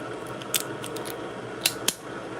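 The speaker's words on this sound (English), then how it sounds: "I got some kitchen scissors right here." Kitchen scissors snip through crab shell in a few sharp, crisp clicks scattered across a quiet, steady background hum, close and isolated with no talk.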